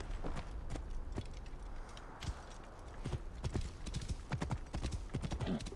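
A horse's hooves clip-clop in a quick rhythmic run in the video game Assassin's Creed Origins, fairly close and continuous, with game voices and effects mixed in.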